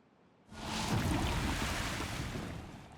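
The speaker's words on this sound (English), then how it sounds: "Okay, let a little bit more of that water out." Water released in the Timberborn video game rushes out in a sudden loud gush that starts abruptly and keeps flowing as a steady, broad roar, with no talking over it.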